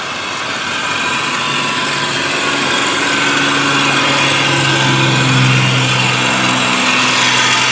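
A 2007 Subaru Forester X AWD engine idling steadily under an open hood, a smooth, even hum with a faint whine, close and fairly loud, with no talking.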